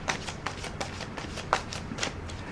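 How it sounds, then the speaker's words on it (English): Thick oracle tarot cards are shuffled by hand in a quick series of soft, papery riffles and slaps, close and fairly quiet, with no one talking. "I can't ever shuffle these cards because they're so thick."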